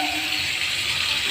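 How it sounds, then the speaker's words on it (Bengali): Water pours steadily into a cooking pot holding fried mankochu (giant taro) pieces, a continuous close gush with no talking. "এবার জল দিয়ে দিচ্ছি"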